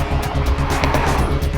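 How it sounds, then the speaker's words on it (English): A 2013 Porsche Boxster S engine pulls hard under acceleration, a loud, close, throaty roar with a pulsing rhythm through the short burst. "you could use the gear lever to make the Boxster unleash its power as you wanted"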